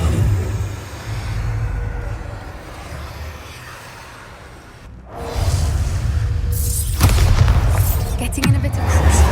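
A Bombarda explosion spell goes off in Hogwarts Legacy combat: a low rumbling rush, a brief lull, then loud booming blasts and swooshes that build toward the end, with speech mixed in.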